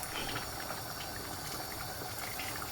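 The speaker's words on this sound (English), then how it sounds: "now I'm going to add the water guys." Water poured into a large cooking pot for a lamb dhansak with lentils, a steady broadband splashing gush lasting a few seconds at even loudness, with no talk over it.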